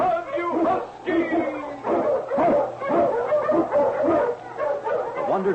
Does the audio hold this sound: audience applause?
no